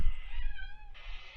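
A cat gives a single clear, close meow lasting about a second, with a brief rustle at the start.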